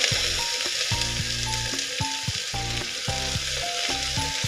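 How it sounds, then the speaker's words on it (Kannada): Onion and curry leaves fry with mustard seeds and cumin for a vegetable kurma, making a loud, close, continuous crackling sizzle with steady music playing underneath. "ಈ ಒಂದು ಟೈಮಲ್ಲಿ ಈರುಳ್ಳಿ ಮತ್ತು ಕರಿಬೇವು ಎರಡನ್ನು ಸೇರಿಸ್ತಾ ಇದ್ದೀನಿ. ಇದು ಸ್ವಲ್ಪ ಕೆಂಪಾಗಿ ಫ್ರೈ ಆಗಲಿ."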